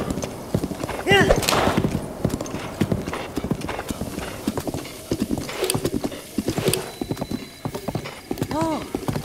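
Horse hooves clip-clop steadily in The Legend of Zelda: Breath of the Wild, with a few whinnies, while a person talks over the riding throughout.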